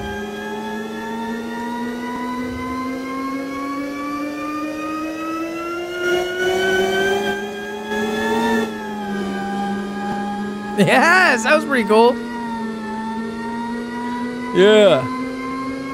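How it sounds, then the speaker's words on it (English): A car engine in the Roblox video game drones and revs steadily, its pitch climbing, while the car spins donuts; a person talks briefly over it near the end. "This car does some sick donuts just on its own, really."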